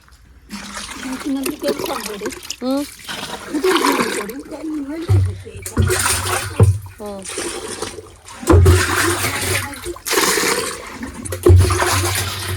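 Water pours and splashes from a pot onto plants in repeated bursts while a person talks over it throughout, with gurgling, flush-like rushes in between.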